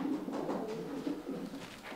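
Low, rolling coos come from a blue pigeon in several short phrases, heard up close and fairly clearly with no speech over them.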